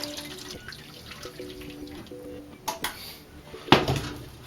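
Hot water poured into a pan around a Japanese cheesecake tin for a water bath, with splashing and trickling under kitchen clatter of metal pans and utensils, building to a louder splash near the end.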